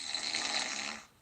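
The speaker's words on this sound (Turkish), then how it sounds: "Evet şimdi ufak bir horlamışım doğru." A person snoring, one drawn-out breathy rasp lasting about a second, faint and close, then fading to quiet.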